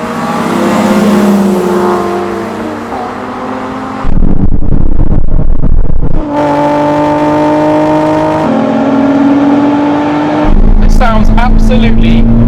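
A Nissan 370Z accelerating hard, loud engine revving climbing through the gears with sharp upshifts and a brief burst of broadband roar, close and dominant, no speech over it.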